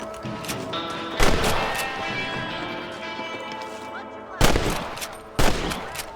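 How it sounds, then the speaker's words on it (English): Gunshots while hunting rabbits in the game Red Dead Redemption, three sharp loud cracks spaced a few seconds apart, each with a ringing decay, over a low game soundtrack. "You're better at shooting rabbits than outlaws, I see."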